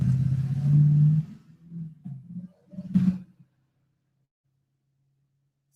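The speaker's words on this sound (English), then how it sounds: "Sorry for the loud truck." A loud truck passes close by outdoors under a bridge, a heavy low engine roar and rumble swelling over the first three seconds before fading out, followed by near silence.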